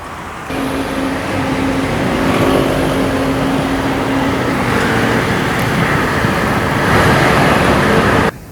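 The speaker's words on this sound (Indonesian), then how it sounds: "truk besar memasuki jalur tol yang berjalan pelan membuat lajur bertambah padat" Dense holiday traffic on a toll road, big trucks moving slowly among cars, makes a steady broad roadway rumble with a faint sustained tone, no voices.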